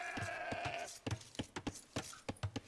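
Sheep bleat in the strategy game Age of Empires, a short drawn-out bleat followed by a quick run of clicks and soft interface taps.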